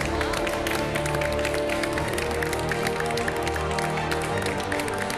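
Steady, loud clapping from a studio audience on a cooking competition show welcomes a special guest, carrying on continuously over a sustained musical backing.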